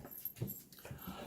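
A puppy whimpers and whines in short soft bursts, faint and close by, indoors during an unboxing with an eye mask.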